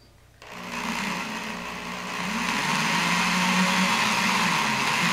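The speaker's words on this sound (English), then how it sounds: "Then I'm gonna very slowly start the drill." A power drill spins up slowly after a brief silent moment, boring through material for a DIY arboreal enclosure, settling into a steady, close, continuous whine that grows slightly louder and holds without talk.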